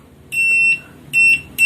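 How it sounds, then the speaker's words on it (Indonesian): An analog multimeter's continuity buzzer sounds three shrill, steady electronic beeps up close: a longer tone, then two shorter ones in quick succession, with quiet background between them. "mau ngecek buzzer"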